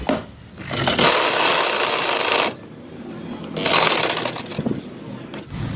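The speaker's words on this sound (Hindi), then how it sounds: "तो चलिए इस पर सिलाई लगा लेते हैं" A sewing machine stitches a peplum frock in two loud, close bursts of rapid whirring and needle chatter, each lasting a second or more, separated by a quieter pause.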